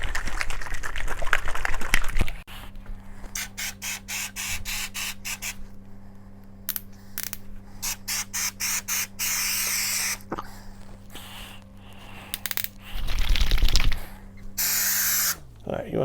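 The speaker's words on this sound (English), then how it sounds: "Now that our can is all shaken up, we're going to spray some texture" Drywall texture sprays from an aerosol can onto a wall patch in a series of short, close hissing bursts separated by pauses. One long blast comes near the end, and a steady low hum sits underneath throughout.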